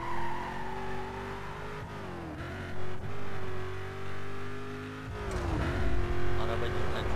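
A Pontiac car engine in Need For Speed Most Wanted drones steadily at high revs, its pitch dipping briefly at gear shifts, with a rougher burst of engine noise and tire scrub near the end.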